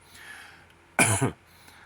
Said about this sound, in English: excuse that cough there